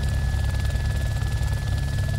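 A Little Bird helicopter in a military combat simulator game drones steadily with a dense low rotor and engine rumble, loud and unbroken throughout, with no voices over it.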